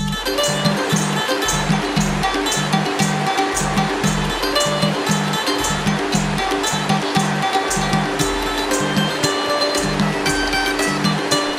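Jaldhaka river water rushes over the Bindu dam near the Bhutan border during heavy rain, a loud constant roar of flowing water with a faint rhythmic tone pulsing underneath.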